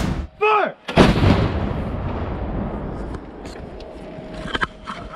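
A National Guard cannon fires after a shouted command. One huge close boom is followed by a long rumbling echo that fades over several seconds.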